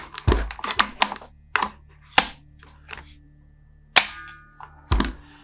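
Several sharp, snappy clicks and mechanical clacks of a Silverback SRS airsoft gun with a Mancraft SDiK being cocked and fired, with one crisp shot near the end, close and dry.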